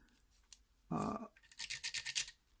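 A guitar pick is dragged back and forth across sandpaper, making a short burst of rough scraping followed by a run of quick, rhythmic strokes, close and fairly quiet.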